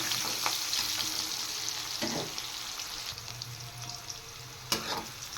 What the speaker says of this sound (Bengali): এবার পেঁয়াজগুলো হালকা একটু ফ্রাই করে নেব।